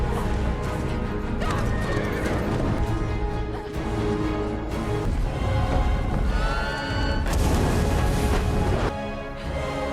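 A horse in a film neighs loudly and repeatedly while hooves clatter as it gallops off, the whinnies and hoofbeats filling the scene with dense layered sound throughout.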